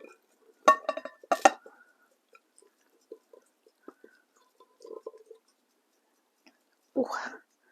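Beef and black bean pie filling spooned into a pie plate, a few sharp utensil clinks against the dish followed by soft sparse scraping and wet plops, then quiet, with a brief murmur near the end.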